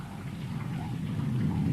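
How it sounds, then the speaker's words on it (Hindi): Heavy rain pours down in a dense, steady hiss that swells slightly louder toward the end, with no voices over it. "ये बारिश तो आज रुकती नहीं।"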